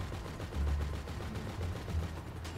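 Rapid gunfire rattles in GTA 5, bursts of automatic shots repeating across the clip at moderate loudness amid other game noise.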